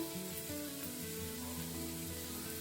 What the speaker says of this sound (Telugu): ఇప్పుడు పచ్చిమిర్చి, కట్ చేసుకున్న కరివేపాకు బాగా ఫ్రై చేసుకోవాలా